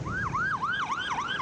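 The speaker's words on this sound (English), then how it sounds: "Every day, the sound of sirens and Hamas rockets echo throughout the southern Israeli air." A siren sounds in Ashkelon, Israel: a loud, close rising-and-falling yelp that repeats rapidly about every third of a second, with no voices.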